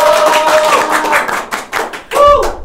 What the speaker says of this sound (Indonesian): Tepuk tangan untuk editor.